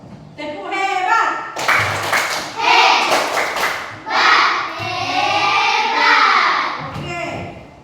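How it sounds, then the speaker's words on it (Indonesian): Classroom of children doing a rhythmic praise clap in unison, loud and close, with the group chanting along. "Tepuk hebat."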